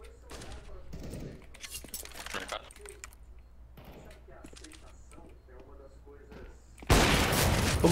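Rapid bursts of gunfire in the shooter game on the Mirage map crackle under quiet speech, ending in a loud sustained blast of noise.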